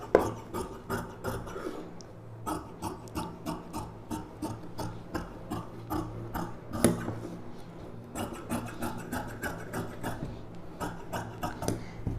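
Scissors cut through silk saree blouse lining fabric with a steady run of close, rhythmic crisp snips and rasps, with no talking.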